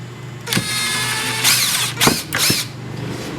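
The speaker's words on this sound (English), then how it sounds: "Is he going to use that impact driver to drill holes in that wood?" An impact driver drilling into wood whirs in short bursts, its high whine rising and falling several times over a steady mechanical hum, close and fairly loud.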